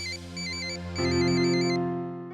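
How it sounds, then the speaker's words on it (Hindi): A telephone rings while a call is being placed, with a repeating electronic ringtone of bright beeping tones over a held chord, close and clear with no talk. "जीत को फोन करती हूँ।"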